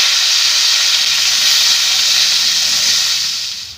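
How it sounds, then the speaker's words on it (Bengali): Potatoes hit hot oil in a wok with a loud, bright, continuous hissing sizzle close by, holding steady for a few seconds before easing off at the very end. "আলুগুলো ভেজে নেব।"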